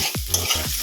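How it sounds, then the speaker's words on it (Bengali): Carrots and potatoes fry in a pan and are stirred, producing a brief sizzle with scraping strokes close up. "অনেকদিন পর গাজর আলু ভাজা করছে"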